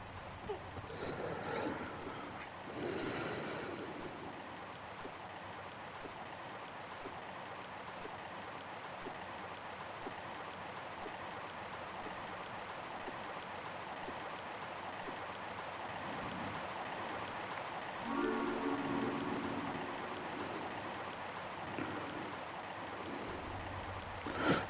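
Rushing water from a waterfall in Tomb Raider 1 Remastered, a steady broad wash of falling water that holds at an even loudness throughout, with no talk over it.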